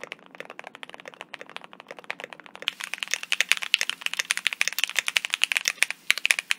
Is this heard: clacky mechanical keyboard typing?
yes